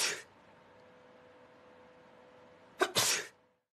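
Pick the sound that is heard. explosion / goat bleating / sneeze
sneeze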